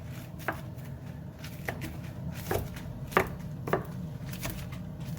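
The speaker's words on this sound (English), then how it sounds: "So I've gone through my spinach and pulled off the stems. Now I'm just going to give them a rough chop." Spinach leaves, stems already pulled off, are roughly chopped with a knife on a board for a low-carb chicken coconut curry. About half a dozen sharp, irregular knocks land over a steady low background hum.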